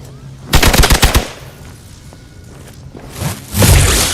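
Rapid gunfire bursts in the Marvel Midnight Suns video game, a loud close volley of shots, a lull, then another heavy blast near the end.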